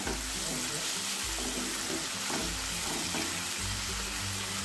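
Spices and ginger paste sautéing in a pan for masala mushroom give a steady, dense frying hiss with faint stirring underneath, close and continuous.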